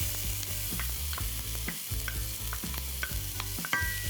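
Chopped red onions sizzle in extra virgin Greek olive oil in a Greek kitchen pan, with a steady close frying hiss broken by regular scraping stirs and small pops.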